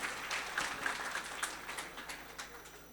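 Applause from a seated audience at a mushaira poetry gathering in Lucknow, a scattered clapping that rises briefly and then thins out, moderately loud across the hall.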